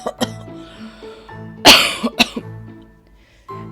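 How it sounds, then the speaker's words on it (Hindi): Several harsh coughs and a throat clearing burst out close by, irregular and loud, with short pauses between them. "कुटिया नजर आती है जिसमें से खांसने की आवाज आती है।"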